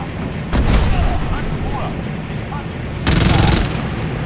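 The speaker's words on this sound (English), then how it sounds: "Danger close. Artillery support coming in." Gunfire and artillery blasts in the tank video game Tank Squad come as two loud bursts of heavy fire over a rumbling battlefield backdrop.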